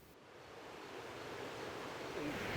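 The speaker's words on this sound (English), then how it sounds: "It's flowing water, it's rushing." Rushing creek water on Mount Diablo near the end of the rainy season, a steady broadband roar that holds constant and swells slightly toward the end, with no voices.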